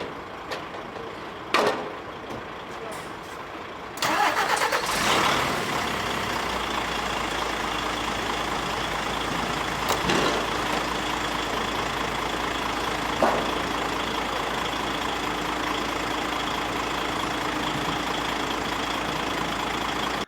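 A stationary truck with its exhaust running into a balloon sits at a steady idle, a continuous low engine drone holding from a few seconds in to the end, with faint clicks and knocks over it.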